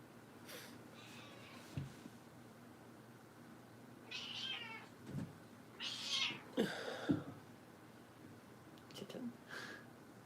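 A kitten meows several times, soft and close in short separate calls, with quiet whispered talk between them.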